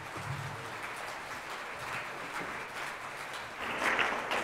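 An audience at a school Christmas band concert applauds, a dense steady patter of clapping from a crowd that swells slightly louder toward the end.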